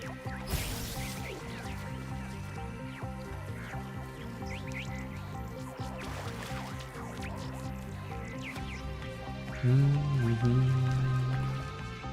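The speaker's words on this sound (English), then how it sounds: "Yay, more water noises." Water drips and splashes in a Talos Principle II game level, scattered drops and small splashes running steadily throughout over a layer of tonal game music, with a louder low tone near the end.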